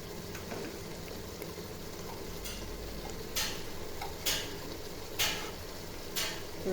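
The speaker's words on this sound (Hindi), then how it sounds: "अब इसको अच्छे से हमने भून लेना है मज़ीद" Goat liver kaleji being fried with masala and kasuri methi, a steady close sizzle with four regular scraping strokes of a spoon stirring through the pan.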